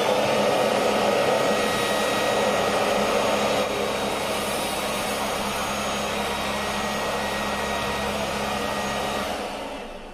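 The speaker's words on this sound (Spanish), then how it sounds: "Bueno, pues ya os he hecho la demostración de la aspiradora." A vacuum cleaner with V-shaped heads runs continuously at close range, a loud steady whooshing roar that eases slightly partway through and cuts off at the end, with no talk over it.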